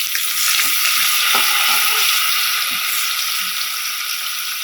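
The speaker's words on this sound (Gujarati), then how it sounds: "થોડું આપણે આમાં પાણી એડ કરીશું।" Water poured into a pan of cluster bean (guar) curry cooking in oil with hing, setting off a steady loud sizzle and bubbling hiss that continues throughout, with faint stirring clatter.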